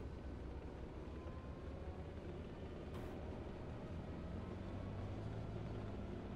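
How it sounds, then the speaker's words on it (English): Constant engine rumble of a BMP armored vehicle in the Squad video game, a steady low drone heard at a distance with no talk over it. "I hear the BMP."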